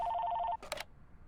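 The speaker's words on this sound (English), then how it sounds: "Phone rings." A telephone rings in the game Lake: a bright, rapidly trilling electronic bell sounds for about half a second, then cuts off, followed by a brief clatter as if the handset is picked up.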